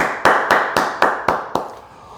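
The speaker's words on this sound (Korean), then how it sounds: "주께 감사와 영광의 박수 올려드리겠습니다." Applause for God during a Korean Full Gospel church Sunday service, heard as six loud, evenly spaced unison claps about a quarter second apart, close and sharp, ending in quiet.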